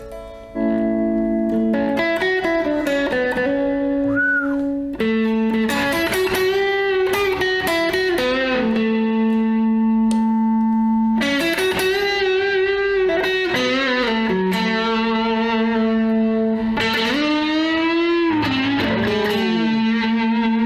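A Strat-style electric guitar with a slightly gritty, just-breaking-up tone, playing sustained chords and melodic bends continuously, close and fairly loud.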